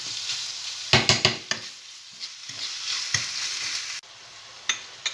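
Ground steak mince for moussaka is stirred and broken up in a hot pan, with sharp spatula scrapes and clacks in a quick cluster, then sparser knocks over a steady frying sizzle.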